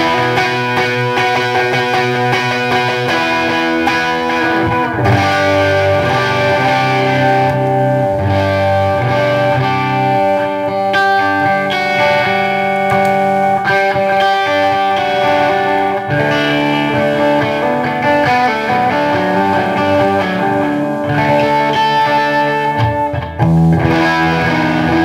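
Electric guitar through an overdrive pedal set as a low-gain clean boost, playing sustained chords and melodic lines, loud and continuous with a warm, slightly gritty tone throughout.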